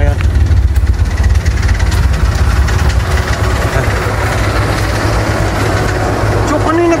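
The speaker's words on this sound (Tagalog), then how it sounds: "mabibrate lang yung kanyang exhaust. Pero pakinggan niyo yung andar niya." A Toyota Corolla engine idles with its exhaust vibrating, a steady low rumble running throughout at close range while people talk over it.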